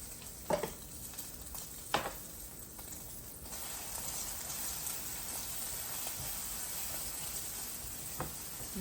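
Reconstituted freeze-dried eggs scramble in browned butter in a pan, giving a soft steady sizzle with a few sharp utensil clicks and scrapes near the start.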